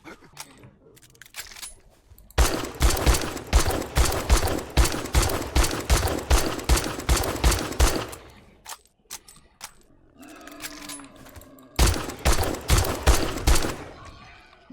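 Rapid bursts of automatic gunfire in a survival video game, two long sustained strings of loud, evenly spaced shots separated by a pause with a brief growl-like sound between them.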